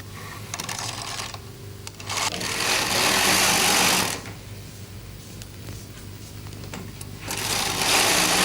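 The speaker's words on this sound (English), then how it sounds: "Knit the row. Always use 2 hands on the carriage." Carriage of a Bond Incredible Sweater Machine knitting a row: a loud rushing, clattering sweep passes across the needles twice, separated by quieter handling noises and clicks.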